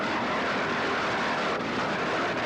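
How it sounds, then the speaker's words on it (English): An offshore racing powerboat at about 94 mph in a 1986 regatta, its engine a steady, dense roar that sounds close and loud and holds without a break, with no voices over it. "Listen to it scream out that power out of that stern of that boat."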